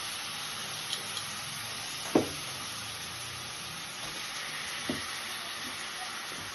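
Dried prawns and eggplant pieces fry quietly in a pan, a faint steady sizzle with a couple of soft clinks and one sharper knock from a utensil.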